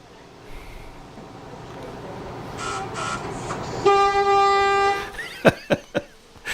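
Steady rumble of a moving train, then a sustained horn blast followed by a few sharp clacks of the carriage. No one speaks.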